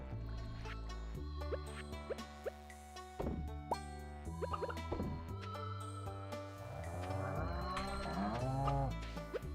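In the Stardew Valley farming game, a cow moos several times over about ten seconds amid soft plops and chimes from the game. The lowing calls come close and clear, layered over light background music, with no talking.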